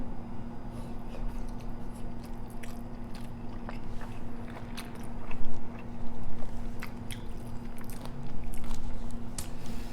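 Close, wet biting and chewing of a soy sauce marinated hard-boiled egg, with irregular soft squishes and crunchy clicks continuing steadily under a faint constant background hum.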